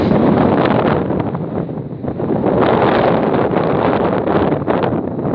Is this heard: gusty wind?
yes